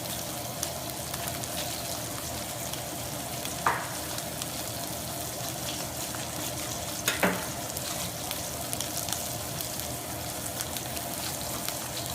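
A steak sears in a frying pan with a steady, close crackling sizzle throughout, broken by a couple of brief clinks, and no one speaks.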